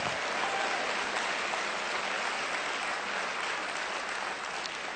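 Steady audience clapping at a mentoring and leadership talk, a dense, even wash of hands that holds at a constant level throughout, distant and diffuse in a large hall.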